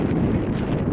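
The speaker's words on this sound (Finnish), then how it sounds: "Tuulee kylmästi suoraan aamalle. Tuuli tulee kylmästi." Cold wind buffets the microphone outdoors on a winter walk, a steady low rumble that fills the whole second without a break and with no voices.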